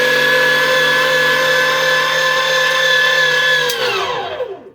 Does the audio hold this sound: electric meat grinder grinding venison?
yes